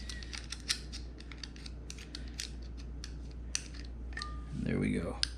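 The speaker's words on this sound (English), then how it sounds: "you're gonna need a 8mm socket to remove this little nut in the back" A ratcheting 8mm socket wrench removes a small nut behind a light pod bracket on a 2021 Yamaha TW200: rapid, close clicks come in quick bursts throughout, ending in a brief metallic scrape and rustle.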